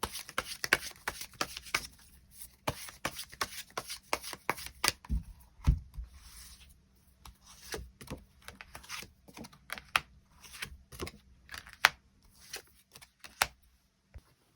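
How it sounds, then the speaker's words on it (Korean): Tarot cards being shuffled and drawn, rapid irregular flicks and snaps in quick bursts with short pauses between them, close and fairly quiet, no talking. "이 사람의 특징에 대한 부분 추가 카드 뽑아보도록 하겠습니다"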